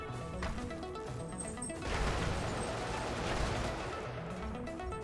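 A boom cannon fires in the mech video game Brigador, giving loud, heavy blasts and crashing explosions that merge into a continuous rumbling barrage.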